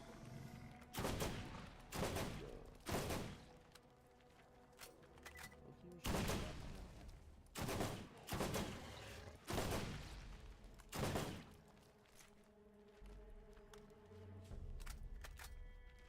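Burst-fire gun in Borderlands, sharp clusters of shots repeating every second or two with quieter gaps between, fairly close, faint background game noise underneath.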